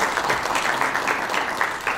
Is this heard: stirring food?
no